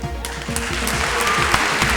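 Steady audience applause at the Miss Florida pageant of 2003, a full hall clapping loudly and evenly throughout, with rhythmic claps standing out near the front.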